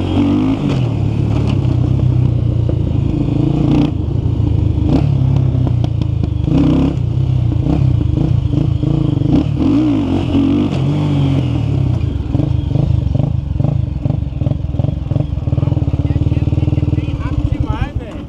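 Yamaha Twister motorcycle revving hard and accelerating through wheelie practice, the engine droning loud and close with rising surges for the whole stretch while people talk over it.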